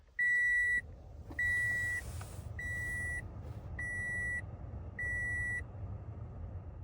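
A car beeps as it is restarted after dashboard head unit work, five evenly spaced electronic tones, each about half a second long, close and clear over a low idling hum.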